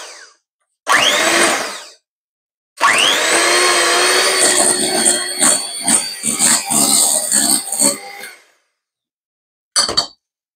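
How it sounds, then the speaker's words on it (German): Electric hand mixer whipping mascarpone cream in a bowl, running in two bursts: a short first pulse, then a longer steady whir of about five seconds with rattling beater clinks, ending with a brief final buzz. "Dann schlage ich das mal ganz kurz auf."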